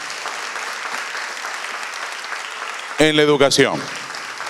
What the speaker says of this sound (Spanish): Brindemos un fuerte aplauso a quienes han sido distinguidos por 25 años de servicio